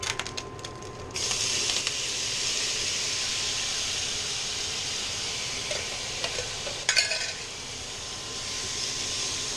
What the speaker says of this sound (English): Crackle, sizzle, sizzle,